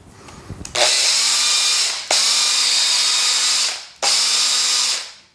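A cordless drill with a burnt-out, smoking motor whirs in three long bursts, each starting abruptly and winding down, with a rattly, strained whine and short pauses between runs.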